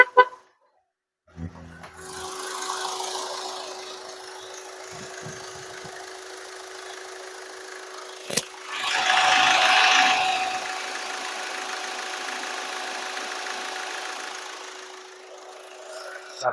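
A 2019 Ford EcoSport Titanium engine idles steadily for most of the stretch, a low continuous hum after a brief start, swelling slightly for a couple of seconds midway, with no talking.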